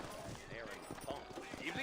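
Horse hooves clip-clopping in the Red Dead Redemption video game, a steady trotting rhythm of soft knocks mixed under voices talking throughout.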